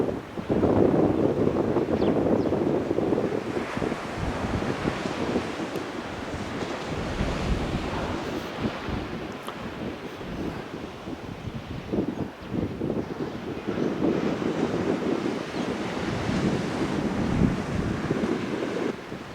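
Surf and wind at Birdie Beach on the Central Coast make a loud, continuous roar of breaking waves with buffeting wind noise on the microphone, and there is no talk.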